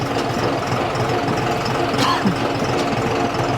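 A John Deere 5210 tractor with V2 tuning runs steadily close by, its diesel engine making a dense, rough, knocking drone that holds even throughout, with no voices over it.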